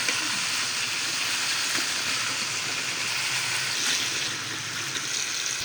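Pangas fish frying in hot oil with green chillies, a steady close sizzle and crackle running throughout without pause, with faint stirring noises and no talking.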